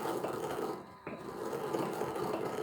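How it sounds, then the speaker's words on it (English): Steady gritty grinding and crunching of eggshells being ground into powder, fairly close, running continuously with a brief pause near the middle; no speech. "the grinding part is my favorite, because the noise, there's just something oddly satisfying about that noise"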